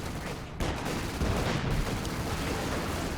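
Sniper and battlefield gunfire in the Company of Heroes 2 strategy game, a sharp burst followed by a dense, continuous crackle of shots and rumbling explosions at moderate volume.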